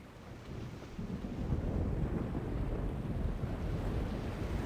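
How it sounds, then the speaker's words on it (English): Rumbling thunder from an approaching storm rolls in under wind and rain, building from a softer start into a loud, continuous low roar that fills the whole stretch. "Storm front. West. Heading our way."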